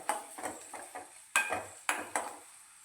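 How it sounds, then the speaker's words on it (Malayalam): Grated coconut roasts in a pan until golden, heard as soft scraping stirs and light clinks of a spoon against the pan in an uneven rhythm, quiet and close with no talking. "ഇത് ഒരു ഗോൾഡൻ കളറാകുന്നിടം വരെ ഒന്ന് വറുത്തെടുക്കണം"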